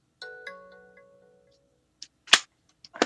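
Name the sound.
phone notification sound, Verizon alert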